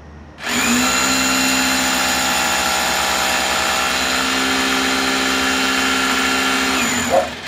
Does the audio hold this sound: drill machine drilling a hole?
yes